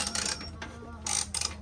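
A ratchet clicks in quick bursts while bolts are turned during an intake install on a B7 Audi A4, rapid pawl chatter in two or three short runs with brief pauses between them.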